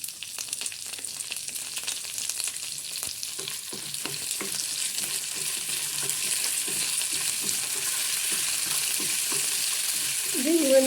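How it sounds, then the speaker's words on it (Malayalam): Urad dal and lentils fried with curry leaves and dried chillies for a chammanthi are stirred in a pan, giving a steady sizzle with repeated scraping strokes that grows slightly louder toward the end. "ഇത് ഉഴുന്നും പരിപ്പ് ഒന്ന് ബ്രൗൺ ആയി വരുന്ന വരെ നമുക്കിത് ഒന്ന് ഇളക്കി എടുക്കാം."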